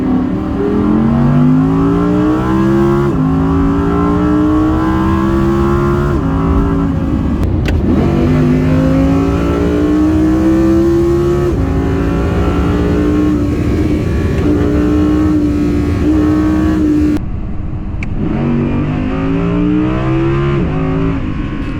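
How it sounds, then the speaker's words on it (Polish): Audi R8 Coupe 5.2 V10 570 Performance RWD engine howling at full throttle from inside the cabin, loud and continuous, rising through several gears with brief dips at each shift. "silnik drze się w kabinie przeokrutnie, jak klepniemy maksymalnie gaz"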